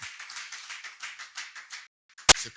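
A church congregation clapping to acclaim the Lord, heard as rhythmic hand claps, fairly faint and distant, that stop briefly before one sharp, loud clap near the end.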